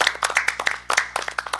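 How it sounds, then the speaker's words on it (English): A small audience at a school board of education meeting claps in scattered, distinct bursts, with individual hand claps clearly separable, some overlapping, forming an uneven, fairly close round of applause. "give them a round of applause"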